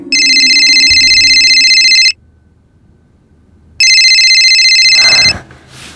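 A telephone rings loudly and close, two long electronic trills separated by a pause, followed by a brief rustle.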